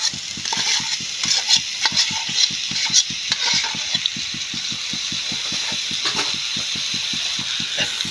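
Chinese rice vermicelli being stirred into frying ingredients, a fast regular clacking of a utensil against the pan over a constant sizzle, with no one talking.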